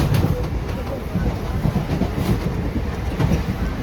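Interior of a moving train, with a continuous loud rumble and rattle of the carriage, rhythmic rail knocks and wind noise, no clear talk.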